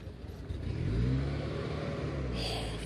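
A Triumph with a slant-four engine pulls away at a classic BMC and Leyland car show, its engine note rising as it accelerates off, fairly faint and mid-distance amid outdoor ambience.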